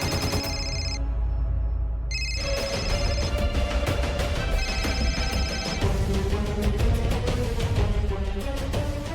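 A telephone rings while an outgoing call waits to connect, heard as repeated electronic ring tones over background music, with a short pause before the ringing resumes and keeps going.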